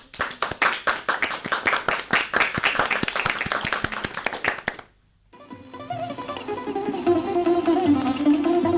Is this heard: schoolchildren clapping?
yes